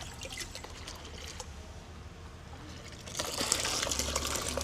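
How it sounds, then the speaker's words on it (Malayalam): Curd mixture, used as a plant tonic, is poured onto plants in a garden, giving a soft, steady liquid trickle that swells to a louder splashing pour near the end, with no talking. "പിന്നെ എല്ലാം തൈര് എങ്ങനെ ഒഴിച്ചിട്ടും കണ്ടോ."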